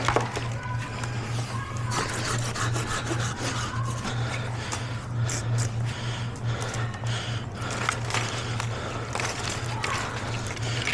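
A handsaw cuts a crossing branch in a cherry tree during urban tree work, rapid repeated rasping strokes close by under a steady low engine drone.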